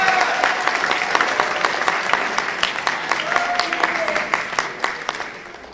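A crowd at a reading competition applauds its eleven finalists with sustained, lively clapping and a few distinct claps standing out, fading toward the end; a voice briefly rises over the applause partway through.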